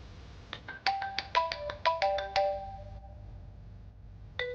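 A telephone ringtone chimes a quick melodic phrase of bright electronic notes, pauses briefly, then starts again. It sounds near and clear indoors with no voices.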